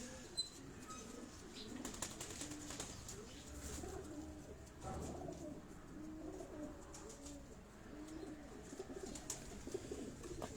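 Batera breed pigeons coo steadily up close, with occasional wing flaps and faint chirps in the background.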